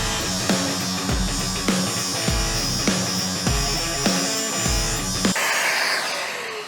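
A miter saw with a dust extractor hooked to it makes several cuts in a row, each a rising whine and bite over the vacuum's continuous roar, with about five rhythmic cutting passes before the saw spins down.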